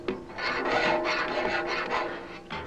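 Hand file rasping across the teeth of a large two-man saw, repeated close scraping strokes in a steady rhythm, loud and without talk.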